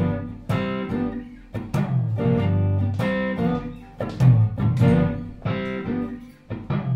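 Guitar playing a blues scale with an added major sixth in G, a run of clear single notes picked one after another at a moderate pace, close and unaccompanied.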